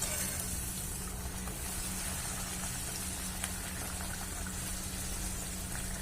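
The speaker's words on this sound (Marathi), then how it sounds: "अर्धा 1 मिनिट लागतो एक कडकणी तळायला." Kadakani fry in hot oil, a steady, continuous sizzle and bubbling hiss holding at an even level, fairly quiet and close, with no talking.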